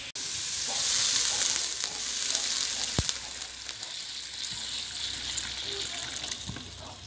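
Hot water is poured onto spices frying in a pan, setting off a loud hissing sizzle with a bright watery gush that slowly eases into steady bubbling frying, with no voices.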